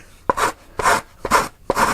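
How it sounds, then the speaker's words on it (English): Sandpaper worked by hand on a wooden block form for a sailplane, four rhythmic rasping strokes about half a second apart, close and fairly loud. "let's start sanding"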